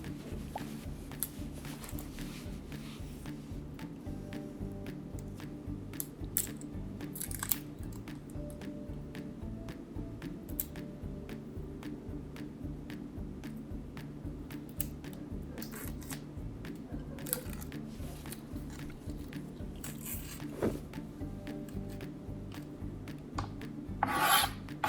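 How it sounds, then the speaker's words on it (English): Dry papery skin of an onion being peeled away by hand, a steady close rasping and rubbing with faint crackles throughout, no voices. "you're gonna wanna take off the outer layer of the onion"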